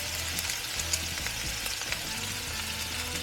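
Pork braised in dark beer fries in a pan with a continuous close sizzle and crackle, dotted with small pops and spatters, steady throughout with no voices.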